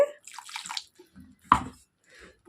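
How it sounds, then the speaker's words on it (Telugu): Water pours and splashes into a pan of paneer masala in a few short, close bursts, with a brief louder gush midway and quiet gaps between. "కొంచెం వాటర్ పోసుకొని ఉడకనివ్వాలండి"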